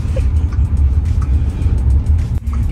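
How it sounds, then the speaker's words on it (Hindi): An automatic car is driven along an empty road, heard from inside as a loud, steady low engine and road rumble that continues throughout, with a brief dip near the end and no talking. "अब मैं थोड़ा सा एक्सीलेटर दे देती हूँ। भाग रही है गाड़ी।"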